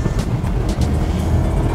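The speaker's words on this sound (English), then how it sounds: "An SUV shouldn't sound this good." A 2021 Jaguar F-PACE SVR SUV on the road gives a loud, steady engine and exhaust roar that holds a constant drone, heard from close by.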